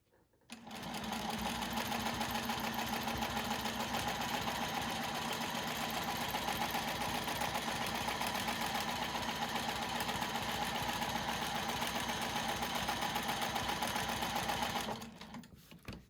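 A sewing machine runs steadily while stitching a quilt guided by a Westalee ruler, a fast even mechanical whir that starts up, hums on without pause for about fourteen seconds close by, then stops.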